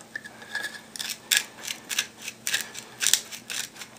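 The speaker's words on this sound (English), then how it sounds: "Just a couple more little scrapes with the reamer." A reamer scraping the plastic of a GoPro camera case to fit an external microphone, a string of short, sharp scrapes in quick irregular rhythm, close and fairly loud.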